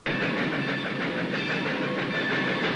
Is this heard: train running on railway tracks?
yes